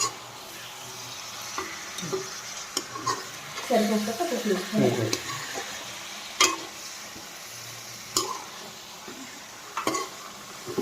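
Country chicken curry masala is stirred and fried in a pan in an Andhra-style kitchen, with scraping stirs and a low sizzle. The scrapes cluster in the middle, and sharp utensil clicks recur throughout; faint speech sits in the background.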